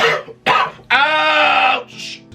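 A person coughs several times in close succession, beginning with two short hacking bursts and then a long, strained, wheezy cough that trails off, all loud and close with no talk.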